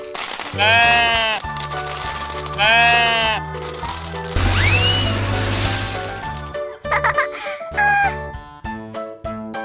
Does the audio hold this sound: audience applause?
no